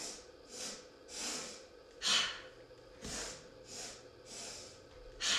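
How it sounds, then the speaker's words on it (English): Yoga breathing during a vinyasa practice: repeated sets of three quick nasal sniffs in followed by a big forceful exhale out the mouth, rhythmic and close, with no talking. "you do 3 sniffs in and then a big exhale out the mouth"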